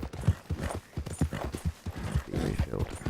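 Horse hooves clip-clopping in a rapid, rhythmic gallop in Red Dead Redemption 2, steady and fairly close, with someone talking over it throughout.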